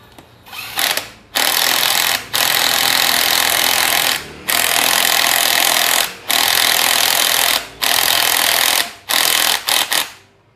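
An impact wrench tightens bolts on a car engine part in loud, buzzing bursts of one to two seconds each, repeated about seven times with brief pauses between.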